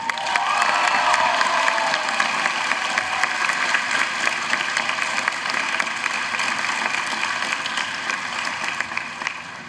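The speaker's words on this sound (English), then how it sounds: "Now you get a big round of applause" Applause from an audience at a university orientation convocation, a broad, dense wash of clapping from a large crowd that holds steady and slowly eases off.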